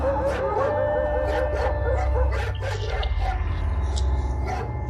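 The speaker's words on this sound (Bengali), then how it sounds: "রাস্তার সবকটা কুকুর যেন একসঙ্গে কেঁদে উঠল" Several street dogs howl and yip together in a drawn-out mournful chorus as a sound effect in a Bengali horror audio drama, loud and continuous over a low rumbling background.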